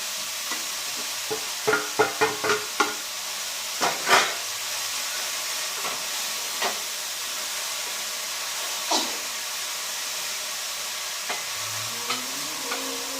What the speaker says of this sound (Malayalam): എല്ലാം കൂടെ ഒന്ന് മിക്സ് ചെയ്ത ശേഷം എണ്ണയ്ക്കകത്തിരുന്ന് വേകണം